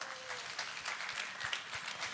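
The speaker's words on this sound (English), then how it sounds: "Give yourselves a round of applause" An audience applauds after a concert, a short burst of soft, fairly distant clapping that continues evenly throughout.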